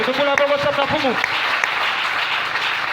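A church congregation bursts into loud, sustained applause and cheering in praise of the Lord, with shouting voices over the clapping at the start that continues steadily to the end.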